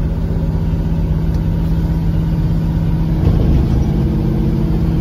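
A failing car engine held at half throttle drones loudly and steadily up close, with a slight surge just past the midpoint and no voices over it.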